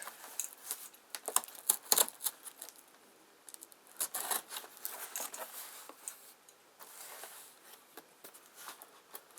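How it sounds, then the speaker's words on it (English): A series of quick, crisp snips and clicks at close range, irregular and fairly soft, like scissors cutting through material. "I use these folding scissors"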